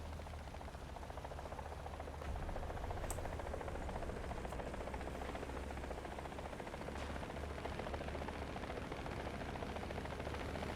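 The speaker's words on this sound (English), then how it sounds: "Oh, that's a helicopter." A steady, dense helicopter rotor drone in a video game fills the whole stretch, constant and loud, with faint clicks and pops scattered over it.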